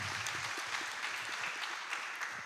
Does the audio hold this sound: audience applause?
yes